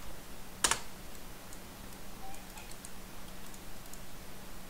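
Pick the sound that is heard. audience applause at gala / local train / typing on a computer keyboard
typing on a computer keyboard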